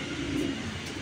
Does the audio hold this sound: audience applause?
no